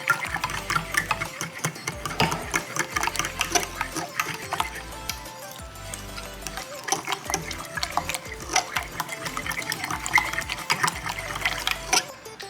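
Spoon stirring a hot avocado jello mixture in a bowl, liquid sloshing and clinking in a steady, continuous rhythm, close and moderately loud with no talking.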